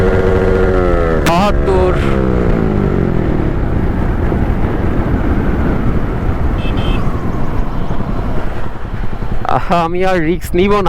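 A motorcycle engine revs up through first and second gear under heavy wind roar from the rider's microphone, with rising engine tones near the start and end. Someone speaks briefly over the noise.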